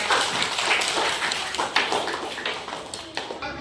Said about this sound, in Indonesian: Oke, tepuk tangan pada anak